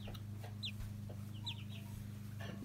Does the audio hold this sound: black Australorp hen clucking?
yes